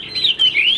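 A single songbird, a large bird kept by a hobbyist, gives a clear, loud, close whistling call with rising and falling notes, heard alone.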